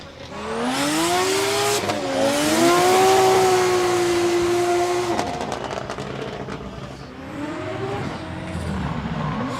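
A drift car in Formula Drift Japan qualifying at Okayama International Circuit screams under heavy throttle, its engine pitch climbing and dipping through the run with bursts of tire noise, loud and close before fading slightly.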